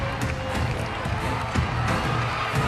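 A stadium crowd of 75,000 at the 2023 SEA Games opening ceremony in Cambodia roars in a steady wash of cheering, heard from a distance with faint bursts of shouting.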